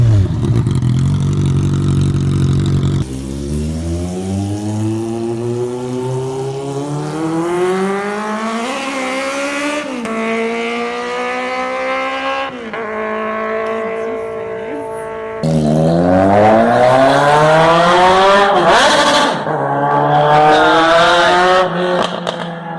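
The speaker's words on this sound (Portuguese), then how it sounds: "Vamos então ver um filmezinho rápido das motocicletas" Motorcycles revving hard one after another, loud rising and falling engine whines with sharp throttle blips filling the whole stretch, close and continuous, on city streets in Joinville.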